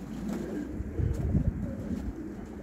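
Soft cooing of pigeons close by, a few low murmuring calls over a quiet outdoor background.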